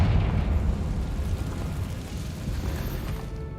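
The Confringo blasting spell in the game Hogwarts Legacy goes off as a deep, booming explosion. Its rumbling, debris-filled roar fades gradually over a few seconds and has no talking over it.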